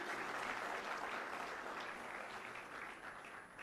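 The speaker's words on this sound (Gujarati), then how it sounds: "એમના માટે એકવાર તાળીઓ થઈ જાય." An audience of lawyers at a gathering applauds Arvind Kejriwal with sustained, dense clapping that fades slightly toward the end, heard from a distance and fairly faint.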